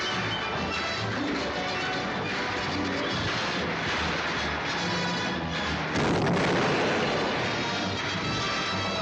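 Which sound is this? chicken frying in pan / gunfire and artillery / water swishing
gunfire and artillery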